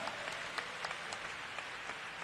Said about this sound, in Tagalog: Isang malakas at matunog na palakpak para sa ating mahal na Panginoon.